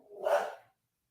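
A single bark from Luxor, a dog, close and fairly loud, rising and fading within about half a second, then silence.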